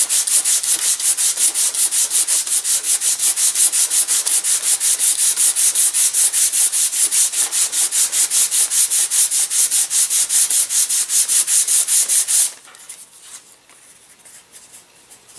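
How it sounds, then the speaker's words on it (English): Sandpaper rubbing rapidly back and forth on a thin model airplane propeller blade, a loud, even rasp in quick rhythmic strokes that stops abruptly near the end, leaving faint handling noise. "I'm going to keep sanding away at this guy."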